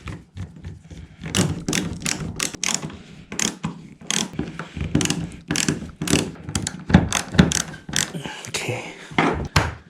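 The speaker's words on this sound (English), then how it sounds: "just grab a screwdriver and finish driving them in." Hand screwdriver driving mounting screws while installing YakGear outriggers on a boat, heard as a dense run of close, sharp ratcheting clicks and short bursts that keep going without a break.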